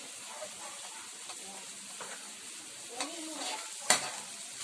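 Spaghetti sauce made of tomato sauce mixed with ketchup is stirred in a pan, with soft scraping strokes and a gentle sizzle, ending in a sharper clack of the spoon.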